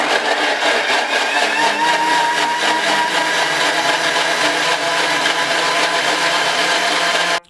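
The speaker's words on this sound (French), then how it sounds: "le plus simple, c'est d'avoir un gros mixeur et de tout mettre dedans d'un coup" A large blender roars steadily at full power, blending lemon with other ingredients for a drink, loud and continuous for several seconds before cutting off abruptly.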